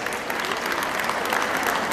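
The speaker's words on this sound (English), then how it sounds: "give a big round of applause to all our guests" A dense wash of applause from a large Lions Club district gathering fills the room evenly, steady and loud throughout with no talk on top.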